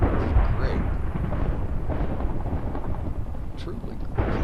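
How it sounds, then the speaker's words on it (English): Low rolling thunder rumbles throughout a Minecraft thunderstorm, a steady broad roar with brief swells, fairly loud and continuous, with faint rain-like noise and no clear talk. "God, I love this thunderstorm."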